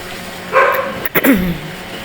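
A dog barks a couple of times nearby, short sharp yelps with a brief whine, then quiet background.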